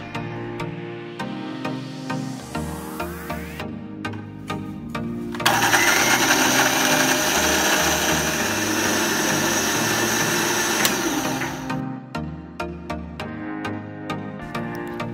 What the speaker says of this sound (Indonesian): Kita blender 1 kali lagi ya.